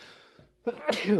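A single sharp sneeze bursts out abruptly, close and loud, during a casual podcast recap of a fishing tournament, with people talking around it.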